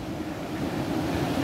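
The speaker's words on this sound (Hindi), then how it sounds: "ये देखो वाटरफॉल का पानी है, और इसकी स्पीड देखो, सीरियसली।" A waterfall near Manali pours fast, making a steady, broadband rush of water that fills the whole moment without a break or any voices.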